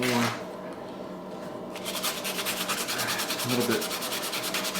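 Pistol grips being sanded by hand with 150 grit sandpaper, a close, rhythmic scratchy rubbing of quick back-and-forth strokes that picks up after a brief pause, with a voice faintly in the background.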